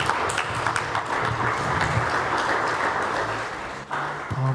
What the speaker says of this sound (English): Let's give another round of applause to the panelists.